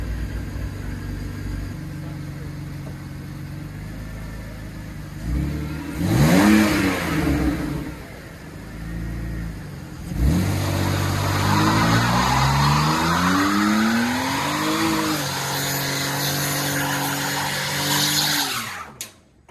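A BMW-swapped Mustang does a burnout, its engine revving hard in repeated rising pulls while the tires squeal continuously. The sound is loud and close and carries on for most of the stretch.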